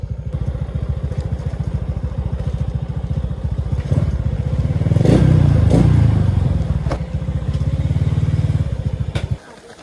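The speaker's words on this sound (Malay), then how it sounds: "Siapa pula bawa motor orang ni?" A motorcycle engine putters nearby by a river, its rapid chugging beat swelling louder as it passes close and then fading out abruptly, with some clatter and voices around it.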